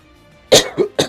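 A person coughs sharply three times in quick succession, loud and close, with a raspy throat-clearing quality and no talking.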